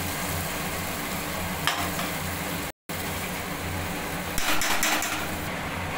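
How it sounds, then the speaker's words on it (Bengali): Turmeric, coriander and garam masala powders are stirred in a pan for raw banana kofta curry, making a steady close frying hiss broken by a few scraping bursts. "এবার ভালোভাবে নাড়িয়ে নেব।"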